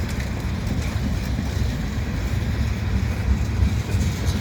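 A Canadian Pacific freight train with hopper cars rolls past in winter, a loud, steady low rumble with wheel and wind noise and no let-up.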